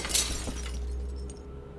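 A stained glass window shattering in the video game Deponia Doomsday, one sharp crash of breaking glass with tinkling shards that quickly fades into a quiet hum.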